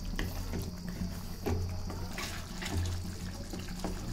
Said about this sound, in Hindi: हम लोग उसमें थोड़ा पानी डाल देते हैं हल्का सा